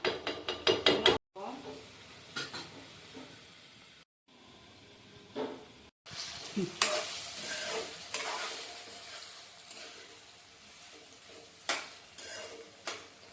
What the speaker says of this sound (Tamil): இந்த வாழைத்தண்டு கொஞ்ச நேரம் அந்த எண்ணெயிலேயே வேகட்டும்